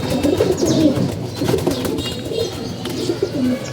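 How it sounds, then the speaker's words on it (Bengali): Pigeons coo repeatedly at close range, soft throaty calls overlapping one another, with faint fluttering as the birds land. "এই যে কবুতরগুলো নামতেছে"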